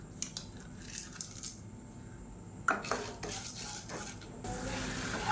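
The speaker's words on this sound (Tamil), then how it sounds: "கடலைப்பருப்பு நல்லா பொரியுது" Chana dal frying in hot oil for a chutney: a steady, soft sizzle with scattered metallic clinks and scrapes of a utensil against the pan, the frying hiss swelling toward the end.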